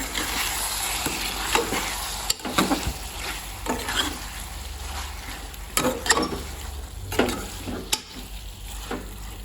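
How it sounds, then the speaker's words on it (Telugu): Chicken frying with tomato and onion in a pan sizzles steadily, broken by repeated scraping stirs in an uneven rhythm, close and fairly loud. "ఇప్పుడు చికెన్ వేసుకుందాం టమాటా ఆనియన్ మగ్గిపోయింది కదా ఇప్పుడు చికెన్ వేసుకుందాం చికెన్ వేసుకున్న తర్వాత కలుపుకుందాం"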